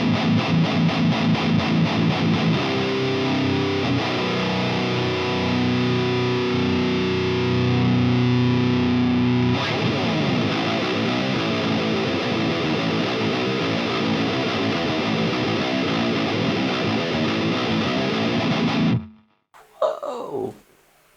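A heavily distorted electric guitar through a Neural DSP Omega Granophyre overdrive pedal plays loud sustained chords and notes with a thick overdrive tone, then cuts out abruptly near the end.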